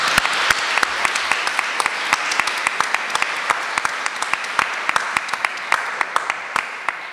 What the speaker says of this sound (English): Now you can give her a real hand.